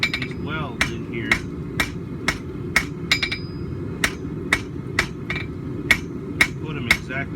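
A heavier hammer strikes hot steel during forge welding, sharp ringing blows falling at a steady, roughly even pace over a low roaring background, about a dozen impacts in all.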